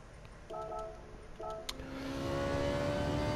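Racing car engines in a racing video game, among them Ferraris, a Lamborghini and a Viper, rev and whine at a moderate distance, with pitch shifts and a rising sustained drone toward the end.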